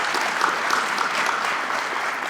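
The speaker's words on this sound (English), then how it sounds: "you can clap for that" Audience applause at a campaign speech at the University of Dubuque, Iowa, a steady dense clapping from a crowd that holds evenly throughout with no voices over it.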